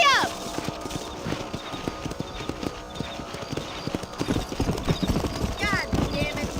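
In the Red Dead Redemption video game, a horse's hooves clip-clop in a brisk, steady rhythm, with a brief whinny at the start and game voices talking over the hoofbeats.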